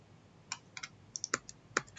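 Computer keyboard keys clicked while entering a shortcut in CAD drafting software, about nine sharp, close taps in an irregular rhythm, with no talking.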